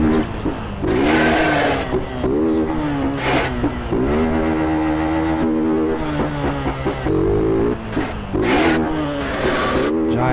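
A motorcycle engine in GTA San Andreas revs loudly and continuously, its pitch rising and falling through repeated throttle blips, with music or game sound mixed in underneath.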